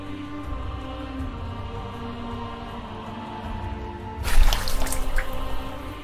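Water splashing as Pilate washes his hands in a staged Passion play, a sudden close burst of pouring and dripping that follows a quieter stretch with a low background hum.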